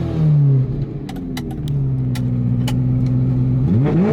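A Ferrari 348 Spider's engine revs up and settles into a steady high idle, then climbs again near the end, a close, throaty mechanical drone with no talking over it.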